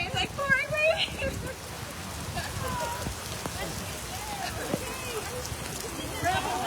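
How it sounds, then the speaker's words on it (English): Heavy pouring rain during an outdoor press conference, a dense, steady patter on surfaces that runs continuously in the background with faint voices beneath it. "it's like pouring rain"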